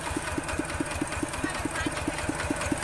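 Walking tractor engine chugging as the machine drives off, a steady rapid knocking beat at close range, loud and even over a few seconds, with no talk.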